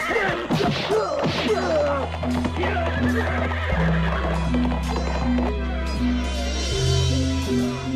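A horse neighs loudly and hooves clatter in a battle scene from an Indonesian audio drama set in the Majapahit era. Sharp crashes and thuds mix with the whinnies over a continuous musical backdrop.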